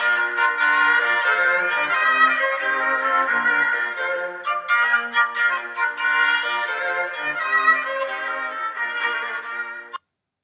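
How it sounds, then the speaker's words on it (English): A bright, happy-sounding passage of music in a major key plays steadily for about ten seconds with no talking, then cuts off abruptly. "an example of something sounding major sounds like this."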